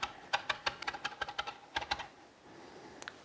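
A knife chops shallots on a cutting board: a quick run of crisp, close taps in an even rhythm, then a pause and a couple of lighter taps at the end.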